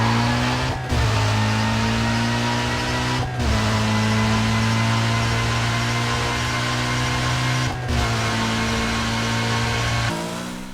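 A BMW M3 GTR race car in Need for Speed Heat drones loudly at high revs with straight-cut gear whine, the sustained note broken by three brief gear-change dips before easing off.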